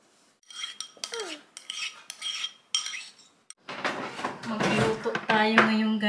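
Spoon clinking against a dish while a child is fed yogurt at home, a few light taps and scrapes between talk, followed by louder continuous talking.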